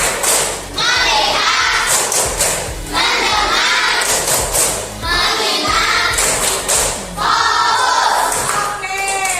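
Classroom tepuk konsentrasi clap game, with children clapping in rhythmic bursts separated by short pauses while they chant words together between the claps.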